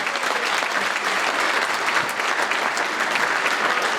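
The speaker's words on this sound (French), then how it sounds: "on peut encore applaudir bien fort" Dense, sustained applause from an audience honoring a footballer's fortieth birthday, steady clapping filling the whole stretch without letup.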